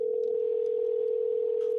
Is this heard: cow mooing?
no